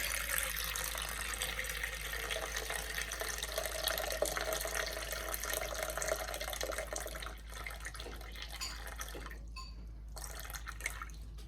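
Water runs steadily into a mixing bowl as 350 grams are measured out for sourdough dough, a continuous splashing trickle that thins and breaks up near the end.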